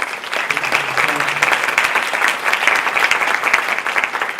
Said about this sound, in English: let's give a round of applause to welcome them